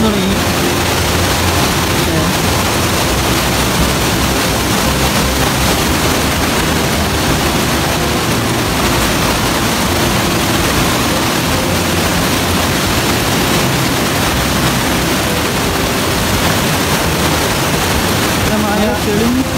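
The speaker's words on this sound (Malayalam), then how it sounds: "മഴ പെയ്യാൻ തുടങ്ങി." Rain falls steadily beside a river near Meenvallam waterfalls in Palakkad district, a dense continuous hiss at constant loudness with no breaks.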